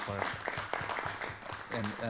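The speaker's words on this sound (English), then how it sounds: "Let's give a big round of applause again" A council meeting audience applauds, its clapping forming a continuous wash beneath a voice that speaks over it throughout.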